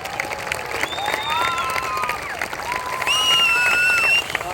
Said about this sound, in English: This is my big round of applause